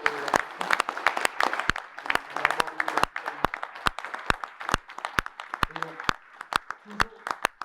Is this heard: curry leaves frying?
no